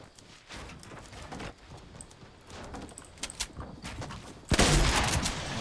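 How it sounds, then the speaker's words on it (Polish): Enemy gunfire in Fortnite Battle Royale, a scatter of sharp shots cracking at irregular intervals from mid-distance, ending in a loud sustained burst of noise near the end. "Nieprzyjaciel do mnie strzela."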